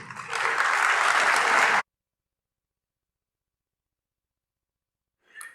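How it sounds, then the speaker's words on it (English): A conference audience at a security talk applauds loudly and densely for under two seconds, then the hall falls silent, with a faint brief sound returning at the very end. "let's get a great round of applause"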